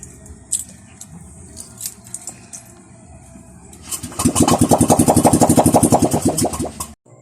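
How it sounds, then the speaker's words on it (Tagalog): Quiet clicks and fiddling, then a flood-damaged Honda Click 125 or Yamaha NMAX 155 scooter engine sputters to life around four seconds in, popping loudly and rhythmically without a muffler before cutting off. "Para marinig nyo na paandar natin ang kanyang motor"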